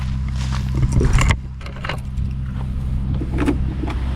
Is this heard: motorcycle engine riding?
yes